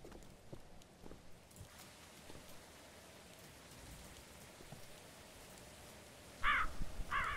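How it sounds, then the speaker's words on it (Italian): Crows caw twice near the end in the video game We Are Not Alone: Contact, two short harsh calls over steady soft rain pattering in the background. "Sì, effettivamente è pieno di corvi."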